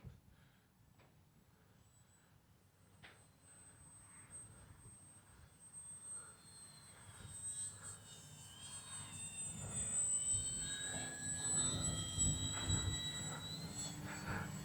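An Arrows RC Trekker model plane flies on a windy day, its faint motor whine distant at first and gradually growing louder and closer over low rumbling wind noise.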